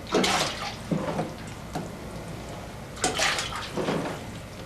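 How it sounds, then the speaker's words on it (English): Cut sardines being washed by hand in salted water, with several bursts of splashing and sloshing close by, separated by quieter pauses of dripping water. "Now when these fish cut up like this, you have to wash them."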